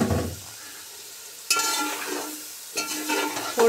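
Chicken pieces fry in a pot of browning onions, giving a soft sizzle broken by three distinct bursts of stirring and scraping against the pot, close and otherwise quiet with no talk.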